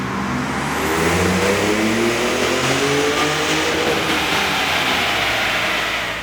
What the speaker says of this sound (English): we got our 2019 Raptor strapped down to the dyno